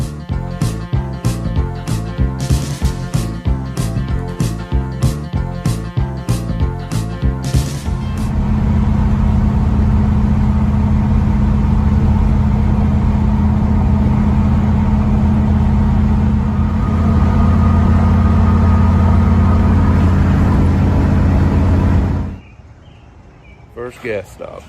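A classic Cougar car on a long road trip, heard first as a rapid rhythmic pulsing, then as a steady loud low engine drone and road rumble that cuts off near the end.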